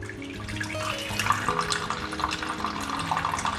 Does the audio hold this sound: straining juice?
yes